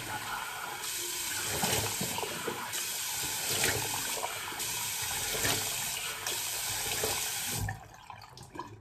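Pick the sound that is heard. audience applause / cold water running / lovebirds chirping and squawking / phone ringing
cold water running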